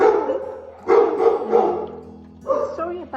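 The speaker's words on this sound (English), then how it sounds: "Sorry about all the barking." Scared Romanian rescue dogs bark in a few sharp, close bursts with short gaps between them, mixed with some yippy, whining tones in an indoor kennel setting.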